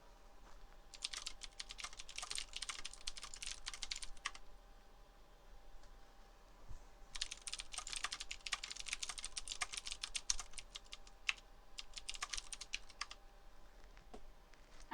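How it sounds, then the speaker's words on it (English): Fast typing on a mechanical keyboard comes in quick bursts of sharp, clattering keystrokes separated by short pauses, faint and close, with no talking. "it's my mechanical keyboard."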